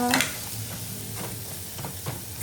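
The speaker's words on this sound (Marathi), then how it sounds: "आता मस्त छान मसाले चांगल्या प्रकारे परतून घेऊया" Agri masala spices being sautéed in a pan, a quiet sizzle with a few brief scraping stirs, close by and without talking.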